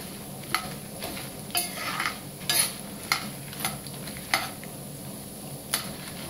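Ingredients fry in a pan with a steady hiss, punctuated by sharp scraping and stirring clatters at irregular intervals, close and moderately loud with no voices.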